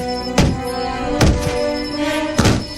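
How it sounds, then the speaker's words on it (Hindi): Someone jumping hard on the back of a car, heard as three heavy, resonant thumps spaced about a second apart over a steady droning background, with no talking. "गाड़ी पर पीछे की तरफ किसी के जोर जोर से कूदने की आवाज आ रही थी।"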